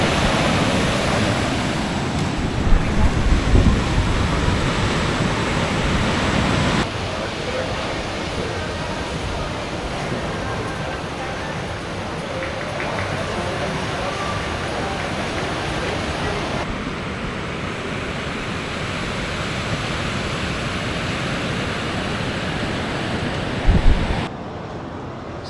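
Ocean surf rolls onto a volcanic-sand surfing beach in Bali, a broad steady roar of breaking waves mixed with wind buffeting the microphone, continuous throughout.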